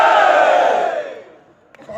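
A large crowd roars a loud, unified patriotic chant of the Bharat Mata ki Jai kind at a Lucknow poetry gathering, the shout fading over about a second into a quieter hall with a faint clap near the end.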